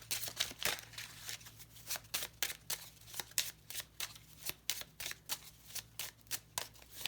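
Tarot-style cards are shuffled by hand for a closing reading, a steady run of crisp riffling bursts repeating at a brisk rhythm, close and fairly quiet with no talking.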